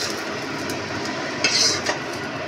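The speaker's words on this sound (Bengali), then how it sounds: "কিশমিশটা দিয়ে ভাজা হয়ে গেছে, তুলে নিলাম।" Raisins frying in ghee give a continuous close sizzle, with a brief bright metallic scrape of a spoon as they are lifted out; no talk.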